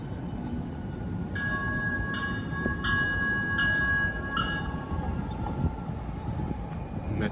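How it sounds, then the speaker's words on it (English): Metro Transit Blue Line light rail train passing in downtown Minneapolis, a loud continuous rolling rumble with a repeated two-tone warning bell ringing in short bursts over the middle, steady and close. "Metro Transit Blue Line."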